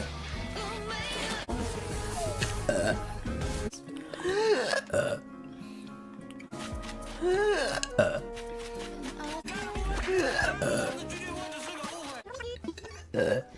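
A woman burping repeatedly, several drawn-out, croaky belches in succession, loud and close, with brief talk between them.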